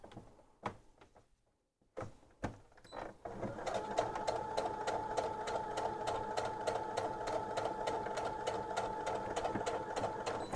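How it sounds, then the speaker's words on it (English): A sewing machine stitches a long panel seam: a few separate clicks and knocks first, then a steady rapid run of needle strokes, close and constant to the end. "even though I'm starting sewing up here"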